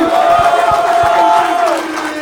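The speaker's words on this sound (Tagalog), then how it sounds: "aking pong hinihingi ang malakas na palakpakan at sigawan ng bahay katay" Rap battle crowd at a bar venue roaring with shouts, whoops and applause, a loud sustained cheer with a drawn-out yell over it that tapers off near the end.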